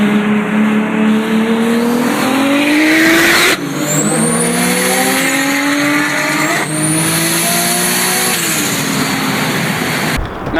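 A 500 hp Audi B5 S4 with a full exhaust revs hard several times, the engine note climbing and falling in long loud sweeps, close by with no talk.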